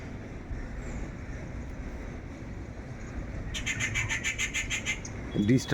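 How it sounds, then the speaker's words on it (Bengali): A bird calls in a rapid series of bright chirps partway through, over steady outdoor background noise on a foggy day, with a voice speaking low underneath. "কি পাখি ডাকছে এটা কে জানে"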